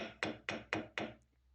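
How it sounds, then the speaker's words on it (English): A wooden mallet strikes rose gold huggie hoops on an anvil four times in an even rhythm, each blow a crisp, fairly bright knock with a short ring, close up and alone. "Use a wooden mallet to gently hammer them into balance"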